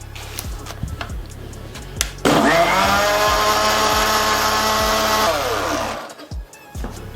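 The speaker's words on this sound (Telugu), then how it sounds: "అప్పుడు దీంట్లో పోసి మిక్సీ పట్టుకోండి" A mixer grinder blends a mass gainer milkshake, whirring up to a loud steady high-pitched drone for about four seconds, then winding down and stopping, with light rhythmic clicks before it starts.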